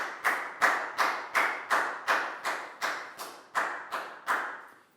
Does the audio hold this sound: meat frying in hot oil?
no